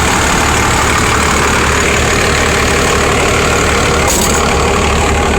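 A Cummins diesel engine swapped into a truck in place of a V10 idles loud and close, a constant low, gritty rumble with a brief higher whine near the end.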